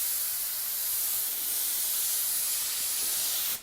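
An airbrush spray gun sends out a continuous, even hiss of air and paint mist for a few seconds, close and steady, cutting off abruptly at the end.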